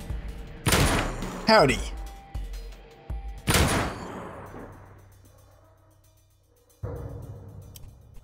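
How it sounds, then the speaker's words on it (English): A shotgun fires in the turn-based video game Dead State: two loud sharp blasts with a mechanical clack between them, each trailing off, followed by a thump; a short spoken greeting comes early. "All right, shotgun time."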